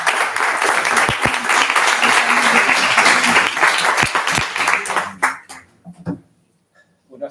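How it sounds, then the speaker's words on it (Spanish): Dense, warm audience applause at a talk in Logroño greeting the speakers, sustained clapping that thins out and trails off into a few scattered claps near the end. "lo mejor que podemos hacer es darles un aplauso calidoso"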